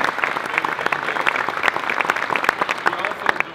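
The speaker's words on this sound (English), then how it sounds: "Please give them a round of applause." Audience clapping at a press conference in a convention center, a steady patter of many hands held at moderate loudness for several seconds.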